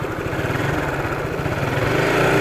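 A Honda GTR 150 motorcycle engine idles in a muddy tourist parking area, a close, steady low-pitched putter with a rapid, even pulse and no talk.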